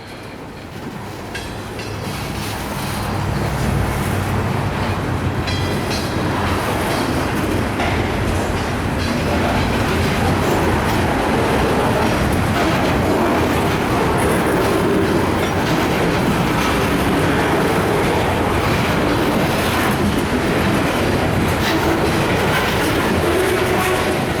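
A slow, heavy CSX mixed freight train rolls westbound past a trackside spot with its locomotive lashup and a mid-train unit, giving a loud continuous rumble with clickety-clack wheel rhythm and faint squeals.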